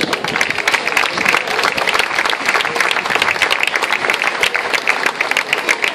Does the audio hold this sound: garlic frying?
no